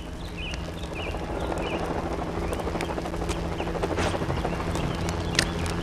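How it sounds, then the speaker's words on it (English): Helicopter in the Lego Jurassic World video game: a steady, rapid rotor chop runs continuously at moderate loudness, with small chirps and clicks of game effects scattered over it. "It says engine on the side of that chopper."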